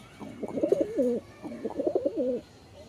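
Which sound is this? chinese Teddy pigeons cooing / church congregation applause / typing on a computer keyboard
chinese Teddy pigeons cooing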